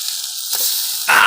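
Fish frying in hot oil on a flat dosa pan gives a loud, close sizzling hiss, with a sharper burst of spattering crackle near the end.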